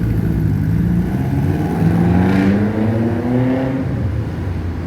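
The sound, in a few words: car driving in second gear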